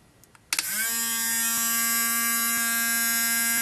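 An electric motor fed from a split battery bank switches on with a click and spins up, settling into a steady high-pitched whine with strong harmonics, loud and close, with no talk.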